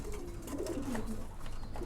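A newly paired set of silver pigeons makes a short, soft, throaty coo in a loft, close by but faint, over steady low background noise.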